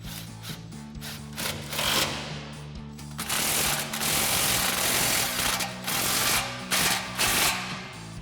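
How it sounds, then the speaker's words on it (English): An impact wrench with a 15 mm socket drives down an exhaust hanger bolt on a 2019-2024 Silverado or Sierra 1500 Borla exhaust install, loud rattling hammering bursts repeating close by over several seconds, no speech. "We'll grab our 15 mil socket on our impact, tighten down our hanger bolt"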